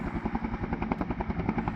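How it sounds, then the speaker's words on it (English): Helicopter landing beside the Grand Coulee Electric City Airport near Banks Lake, Washington, its rotor chop pulsing steadily and loudly with a rapid beating rhythm, close by and with no voices. "Just watching this helicopter land"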